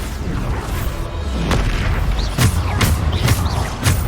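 Bombarda blasting spell from the Hogwarts Legacy video game, heard as several heavy booming bursts in quick succession over a constant rumbling game background.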